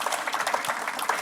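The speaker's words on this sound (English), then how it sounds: "So please give a round of applause for my loving" Brief patter of applause from a gathered audience honoring a man's wife, fairly faint and even, a short burst of scattered clapping heard from some distance.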